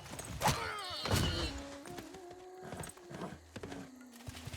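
Horse units in Civilization VI come under attack, with clattering hooves, a sharp whinny, and thuds of combat layered over game effects and a low sustained tone.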